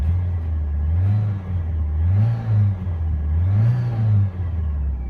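A 1985 Saab 900 S notchback with 335k miles, its engine revving up and settling three times in a smooth rhythmic cycle, a close, steady low hum swelling and falling with no talk.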